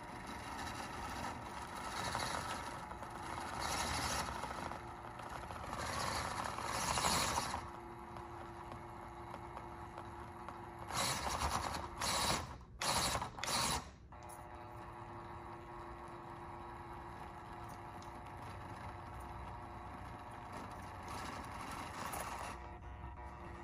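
A Panda Hobby Tetra 1/24 RC crawler on stock tires whines with motor and gear noise as it climbs, a steady high buzz with surging bursts and short stop-start pulses.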